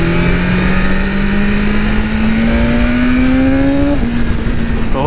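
A BMW S1000RR sport motorcycle in dynamic mode accelerates hard at Daytona Bike Week, its loud close engine climbing steadily in pitch through the gears with a brief drop at a shift, all under rushing wind noise.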